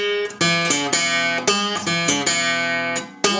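Acoustic guitar blues lick, a short run of about eight plucked notes with sharp attacks and ringing sustain, played alone at close range.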